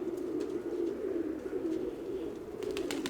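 Pigeons coo in a low, continuous, overlapping murmur, fairly close and steady throughout, with a few faint clicks and flutters near the end.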